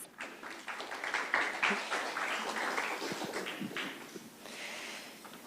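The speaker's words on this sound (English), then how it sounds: "Let's give them a round of applause" Audience applause for the coaches at a junior high cross country awards ceremony, a steady wash of many hands clapping that lasts several seconds at moderate volume before thinning out.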